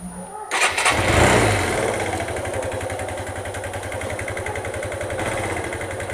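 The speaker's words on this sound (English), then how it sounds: "I will start the engine to check that everything is okay and there are no leaks whatsoever" A Suzuki VanVan RV200 motorcycle engine cranks and fires up after a brief click, then settles into a steady, loud, close single-cylinder idle with an even rapid thump and no voices.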